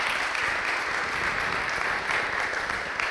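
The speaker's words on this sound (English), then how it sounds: "please join me in a round of applause for our wonderful" Steady applause from an audience at an art panel presentation, honoring the panelists, with continuous moderate clapping of even density that neither builds nor fades.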